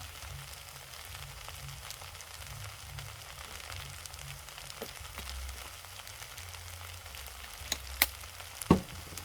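Chicken fried rice frying in a pan as tomato sauce is added, with a continuous soft sizzle and a few sharp clinks of stirring near the end.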